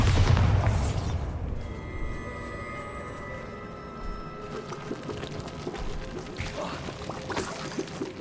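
A Bombarda blasting spell goes off in the Hogwarts Legacy video game, with a loud booming burst at the start that rolls into a crashing, shimmering magical rumble with scattered debris and crackles, and no talk.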